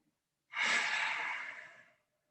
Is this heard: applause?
no